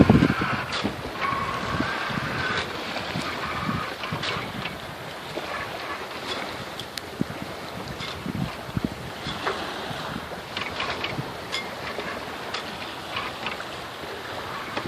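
A sailboat cruises at about five knots on the open sea near Catalina Island, with steady wind buffeting and water rushing against the hull, plus occasional creaks and knocks aboard.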